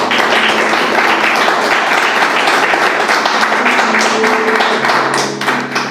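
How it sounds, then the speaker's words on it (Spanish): A church congregation claps loudly and densely together at a Sunday service, a steady roar of hands that eases slightly in the last second. "Vamos a darle un aplauso al Señor"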